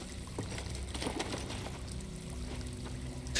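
Flowing water in Star Wars Jedi: Fallen Order, a continuous pouring, splashing rush that fills the scene at steady loudness, with no talk.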